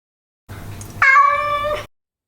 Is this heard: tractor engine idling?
no